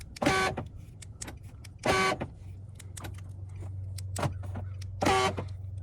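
Rear door lock actuator on a Nissan Maxima whirring as it unlocks, three short buzzing bursts close by, separated by small clicks and a low steady hum in between.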